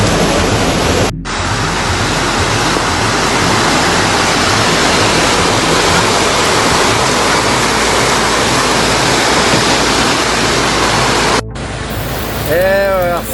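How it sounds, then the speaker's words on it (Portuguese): Rushing floodwater during severe flooding in Juiz de Fora, Minas Gerais, a loud steady roaring wash filling the scene close by, with faint voices under it and a brief break near the end. "E a água só aumenta, não diminui não, gente."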